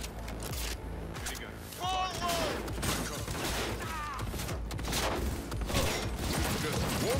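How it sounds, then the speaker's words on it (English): Gunfire bursts and mechanical weapon clatter from Cyberpunk 2077 come in rapid, scattered volleys over busy game sound, with a voice talking across the fight. "Are you shooting?"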